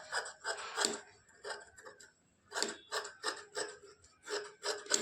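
Scissors snipping side pieces of fabric for a lined blouse, in a run of short, rasping cuts that come in bursts with a brief pause in the middle, close and fairly quiet.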